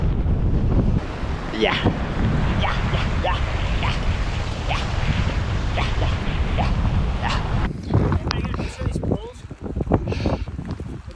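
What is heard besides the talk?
strong wind at Trolltunga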